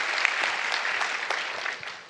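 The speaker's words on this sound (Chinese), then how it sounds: "让我们以热烈的掌声感谢杨教授给我们带来的报告" Warm applause from a lecture audience thanking a professor after a Confucian studies talk, dense steady clapping from many hands, sustained and even, with no voices over it.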